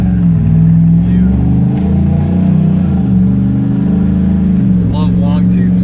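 A 2015 RAM 1500 pickup with long-tube headers idles and revs, a loud, deep engine drone rising and falling in pitch, heard close with people talking over it.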